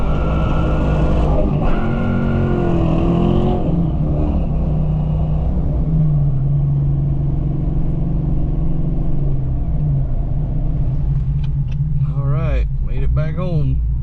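A 1988 LX with a 331 stroker engine and nitrous idles and rolls along with a deep, steady rumble, the low tone shifting slightly as it moves, while someone talks over it.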